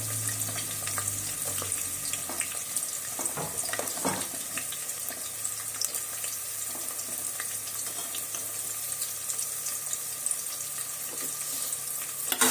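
Egg biryani masala with onion fries in a pan with a steady close sizzle. Frequent small crackles and a few stirring taps run through it, fairly even in level, with no voices.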